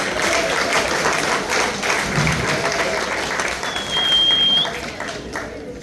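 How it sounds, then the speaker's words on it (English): A crowd applauds at a live awards-style event with a prize draw, steady dense clapping filling the whole stretch with a brief whistle near the end, loud and close. "Let's give her a round of applause again"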